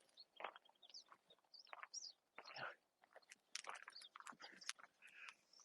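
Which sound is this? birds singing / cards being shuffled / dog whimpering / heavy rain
birds singing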